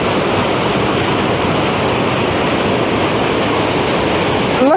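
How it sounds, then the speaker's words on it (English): Waterfall on a limestone mountain trail, a loud, continuous rushing roar of falling water, close and unbroken, with no voices. "Oh, there are too many waterfalls here."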